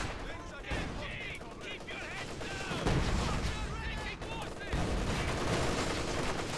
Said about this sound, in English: Nice barrage coming in.